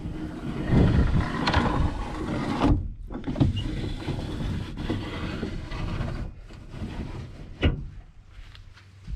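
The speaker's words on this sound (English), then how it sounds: "Windows roll up nice and easily." A 1966 Ford F100's window whirs steadily as the glass rises, with a soft thunk near the end, over low background rumble.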